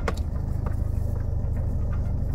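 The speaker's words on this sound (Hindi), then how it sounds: "अब गाड़ी को ऑन कर लेते हैं, देखते हैं इंजन कितना नॉइस करता है" Diesel engine of a 2014 Toyota Etios Cross with high mileage, idling steadily after start: a continuous low rumble with faint ticking patter, close and even throughout, with no talk over it.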